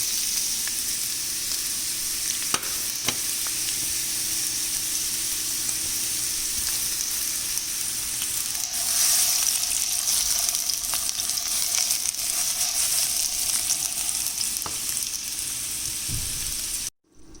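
Chopped vegetables sizzle steadily in about two spoons of hot oil in a pan, a loud continuous crackle that swells briefly partway through and stops abruptly at the end, with no voices.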